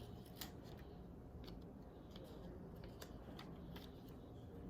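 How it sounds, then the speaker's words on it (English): Scissors cutting through folded paper: a series of quiet, close snips and crisp slicing strokes over a steady low background hum. "So after you cut the folded half, you'll have 2 pieces"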